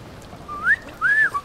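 A Sim character in The Sims video game whistles two short rising-and-falling notes, clear and alone over a quiet background.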